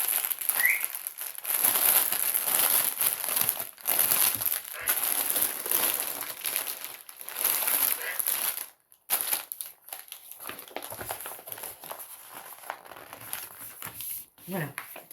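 Crinkly plastic packaging being unwrapped from a stamped cross-stitch canvas, a steady close crackling and rustling with a brief pause partway through and a voice speaking over it now and then.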